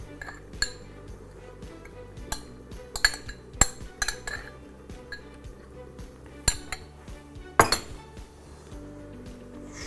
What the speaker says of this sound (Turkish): Bundan sonra şimdi bulgurları karıştıracağız içine.